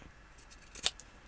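Scissors snip craft material at a crafting table, giving a couple of quiet, crisp cuts near the end of a mostly hushed moment.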